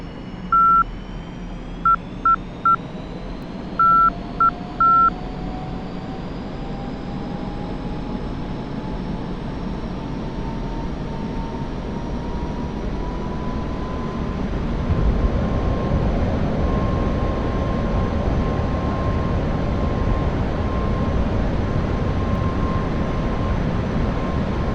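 An F-5E jet in the DCS flight simulator runs up for takeoff, a steady engine roar with a rising whine that swells louder midway, and a few short electronic beeps sounding early on.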